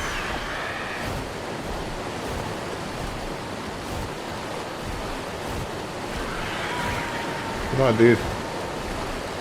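Water in ARK: Survival Ascended, with a steady rushing wash of surf and river noise running throughout, broad and constant, and someone speaking briefly over it near the end.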